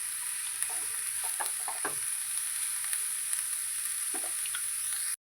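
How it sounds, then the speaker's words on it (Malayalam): Cooked green gram is stirred into radish thoran in a hot pan. A steady sizzle runs throughout, broken by a few scraping stir strokes, with no talk. "നന്നായിട്ട് ഇളക്കി യോജിപ്പിക്കുക"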